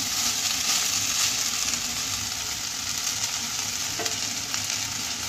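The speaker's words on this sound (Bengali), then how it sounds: "আবারও একটু ভালোভাবে নেড়ে দেবো হালকা হাতে" Vegetable fried rice is stirred gently in a hot pan, giving a steady, even sizzle with soft scraping throughout and one brief clink near the end.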